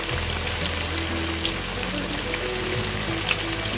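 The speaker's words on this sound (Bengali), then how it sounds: "বৈচিত্র্যময় নামের কারণে ইলিশ মাছের লেজ ভাজা এখন ভাইরাল" Hilsa fish tails sizzle steadily in hot oil, a dense, continuous frying hiss heard up close with no talk over it.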